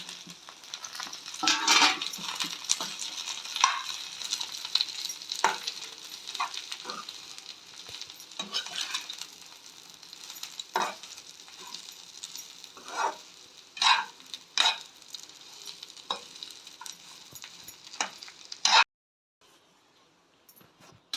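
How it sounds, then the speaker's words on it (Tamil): Tamarind and grated coconut are sautéed in a pan for a ridge gourd chutney, with a soft sizzle under irregular stirring scrapes and taps that carry on steadily before stopping abruptly near the end. "தேங்காய் துருவலையும் ஆட் பண்ணி மொத்தமாக வதக்கி எடுத்துக்கிட்டு"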